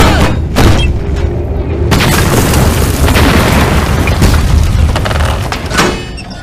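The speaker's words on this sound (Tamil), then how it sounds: "3 பீரங்கிகளை வச்சு ஒண்ணா சுடுங்க." Artillery cannons fire and shells explode in a war movie battle set in 1911, heavy booming blasts rolling one after another over a continuous loud roar, with sharp bursts near the start and end.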